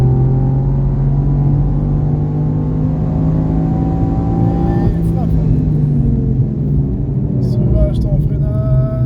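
A race car on a circuit at Mireval held at full throttle, its engine droning loud and steady with the pitch slowly climbing, then a gear change. A voice talks over it throughout.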